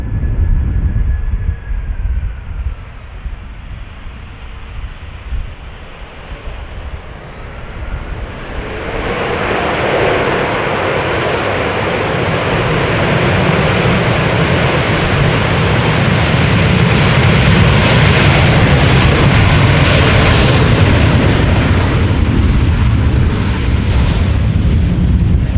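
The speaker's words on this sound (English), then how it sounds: "It's an Airbus A340-300 I should say." An SLM Airbus A340-300 lands at Amsterdam Schiphol Airport, its engines approaching with a faint whine before swelling into a loud, sustained roar of reverse thrust that builds and holds near the end.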